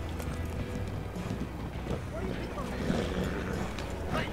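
Hooves of a Norfolk Roadster horse running in the video game Red Dead Online, a steady continuous clatter under wind and ambient game noise, with some talking mixed in.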